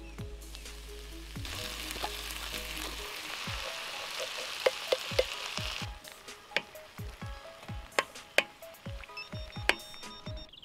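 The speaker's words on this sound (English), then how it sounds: "The curry's boiling over." Steady frying sizzle fills the first half, then sharper bubbling pops and spits burst out irregularly as a pot of chickpea, spinach and mushroom curry boils over, fairly close.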